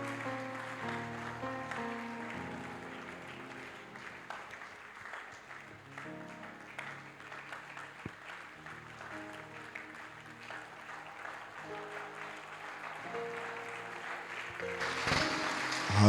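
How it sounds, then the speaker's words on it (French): A church congregation at a Sunday covenant-day service claps steadily together, a dense, continuous wash of applause mixed with music and voices, swelling louder toward the end. "Clap for Jesus."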